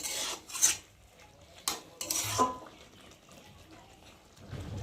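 Kudri cooking in a pan is stirred after sugar is added, the spoon scraping in short irregular bursts with quiet gaps between strokes.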